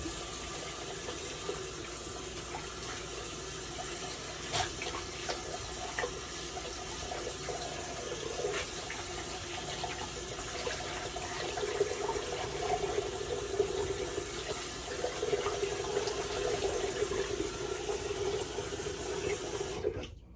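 A bathroom tap runs steadily while shave lather is rinsed off, a continuous close hiss of flowing water that holds for about twenty seconds before cutting off at the end.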